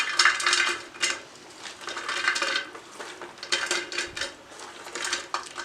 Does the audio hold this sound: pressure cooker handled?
yes